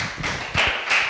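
Primary four pupils in a classroom clap together to applaud a group, several strong unison bursts of many hands rising over a steady patter of scattered claps, close and fairly loud, with no talking.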